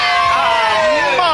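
Children in a TV studio audience cheering and shouting together, a dense loud burst of young voices that fills the whole short moment.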